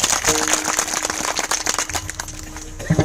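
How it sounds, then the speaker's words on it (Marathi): A kirtan audience claps in a dense, steady wash of applause, with a sustained musical drone underneath that fades out near the end. "परत एकदा यांच्यासाठी टाळ्या वाजवायला"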